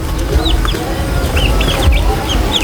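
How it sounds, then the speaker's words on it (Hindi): A turkey chick and several silkie chicks, one of them black, chirp in an egg incubator setting with overlapping high peeps over a steady low hum. "ये यहाँ पे जो हमारे पास ये टर्की का बच्चा है"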